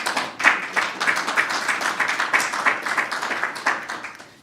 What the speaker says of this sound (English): please, one more time, big round of applause to all of them